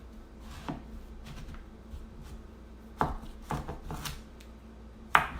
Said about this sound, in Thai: เรามาหั่นผักกันเลยค่ะ เริ่มจากซูกินี่ค่ะ